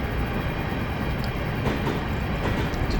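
A Class 350 electric multiple unit runs in the Train Simulator 2018 game on the LNWR Rugby to Stafford route, a steady loud rumble of wheels and motors with faint rhythmic clacks, continuous throughout.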